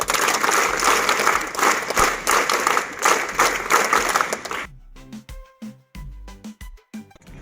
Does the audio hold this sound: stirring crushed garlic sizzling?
no